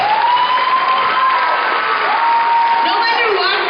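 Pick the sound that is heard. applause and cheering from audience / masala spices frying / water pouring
applause and cheering from audience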